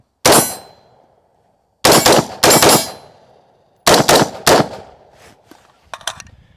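Fostech Raptor AR15 rifle firing outdoors, loud sharp reports in separate bursts of one to three shots with short decaying echoes, then a few softer metallic clicks.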